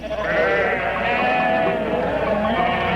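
Sheep bleat loudly and continuously in a western film scene on ranch land, a close, wavering, nasal chorus from a flock lasting the whole moment.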